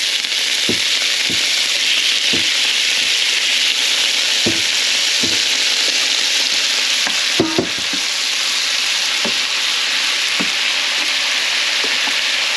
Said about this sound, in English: I'm going to saute my protein first.